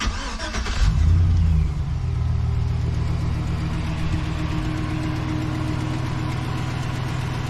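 A 2007 Chevrolet Silverado truck engine cranks briefly, catches with a loud low roar, then settles into a steady rumbling idle that continues close and alone for several seconds.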